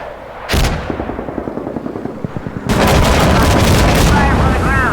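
Incoming rocket fire and explosions in the Insurgency Sandstorm video game, set in Afghanistan: a sudden loud blast at half a second, then a rattle of scattered shots, then a heavy sustained roar of fire and explosions, all close and loud.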